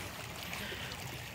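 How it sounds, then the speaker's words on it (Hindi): Water from waterfalls pouring into Saiful Muluk lake in the Naran Kaghan valley, a steady broadband rushing wash that holds even throughout with no breaks and no voices. "ये आबशारों से पानी आ रहा है और झील सैफुल मलूक के अंदर जा रहा है।"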